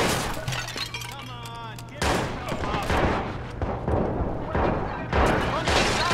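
Gunfire in the video game Watch Dogs, with sharp shots and bursts through a busy combat mix while voices shout orders over the action.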